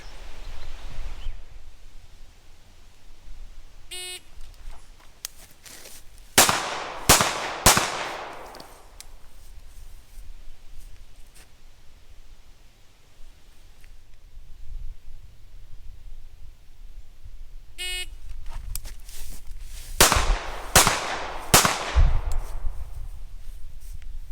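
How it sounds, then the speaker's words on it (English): A Remington R1 Enhanced Commander handgun fires during a police qualification course, two bursts of three sharp, loud shots close together, separated by a long quiet stretch with faint movement and a beep before each string. "On the first signal to fire, I'll fire my first 3 rounds while backing"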